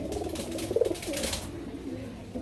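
A male pigeon coos close by, a soft throaty burst of rolling coos in a loft of fancy pigeons, fairly loud, with brief background voices.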